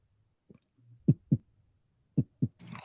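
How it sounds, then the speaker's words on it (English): A heartbeat sound effect played in a livestream: two pairs of deep, muffled lub-dub thumps, loud and close in near silence, with a short burst of noise at the very end. "one of y'all had a heartbeat sound just now."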